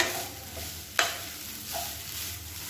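Egg rice is stirred in a pan over a medium flame, a spatula scraping with a sharp clack near the start, under a soft continuous sizzle.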